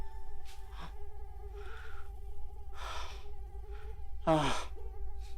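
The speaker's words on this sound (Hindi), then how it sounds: "मच्छर।" A mosquito whines with a thin, steady, high-pitched buzz that runs throughout a home scene in a Hindi drama, broken by several loud sighs and breaths close by.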